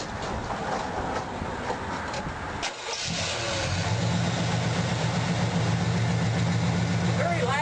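A car engine fitted with an HHO kit cranks briefly and then starts, settling into a loud, steady idle with a low rumbling drone that continues to the end.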